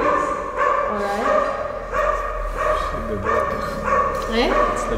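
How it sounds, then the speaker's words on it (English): A dog barks repeatedly in short yapping bursts with whimpering tones, sounding close and fairly loud while people talk over it during an indoor creative residence session. "The dog is complaining."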